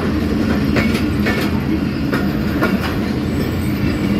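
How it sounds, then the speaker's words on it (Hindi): The Mehran Express passenger train rolls past on its run to Mirpur Khas in Sindh, a loud, steady rumble with rhythmic wheel clicks over rail joints and faint squeals, heard close and continuous. "मेहरान एक्सप्रेस जा रही है मीरपुर खास के लिए"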